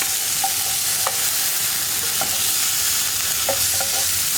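Chopped tomato being stirred into frying potato masala, a loud continuous sizzle with several short spoon scrapes against the pan.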